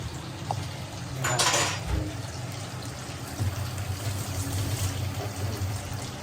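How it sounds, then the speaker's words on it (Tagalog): Dishes clink and rattle while water runs from a tap in steady background noise, with a brief louder burst of splashing partway through. "Ang aking boyfriend ay naghuhugas ng pinggan."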